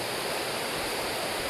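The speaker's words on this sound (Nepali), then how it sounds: "यहाँको खोला एकदमै सङ्लो खोला, चिसो छ पानी" The clear, cold Kamlang river rushing over stones nearby, a steady, dense roar of flowing water that does not let up, with no voices.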